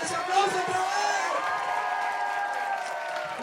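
An outdoor crowd at Medellín's Feria de las Flores applauds and cheers for a traditional silleta, with a steady wash of clapping and whoops beneath an announcer's voice.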